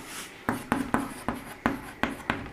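Chalk or marker strokes on a board, a series of sharp rhythmic taps and scrapes as letters are written, close and clear with no talk over them.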